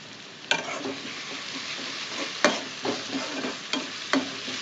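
Ginger, garlic and onion with salt cooking in a pan for prawn masala: a soft continuous sizzle broken by occasional sharp spatula scrapes and knocks against the pan. No voices.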